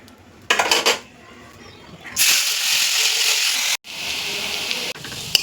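Potatoes tipped into hot oil in a wok, a sharp metallic clatter of pan and utensil followed by a loud, steady hiss and sizzle that briefly cuts out and resumes.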